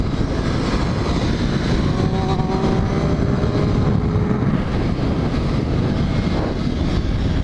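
A racing motorcycle runs at about 100 mph around Thompson Speedway in Connecticut on the counterclockwise course, a loud, steady roar of engine and wind that continues unbroken with no voices.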